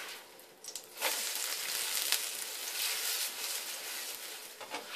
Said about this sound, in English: Cover it and allow it to fry.